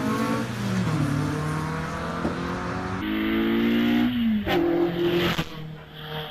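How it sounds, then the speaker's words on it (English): A Renault Clio 172 Cup race car climbs a hill climb course, its engine revving hard through rising gear pulls and brief shifts, loud and close, then receding as it passes. "the line there in his Renault Clio 172 Cup car"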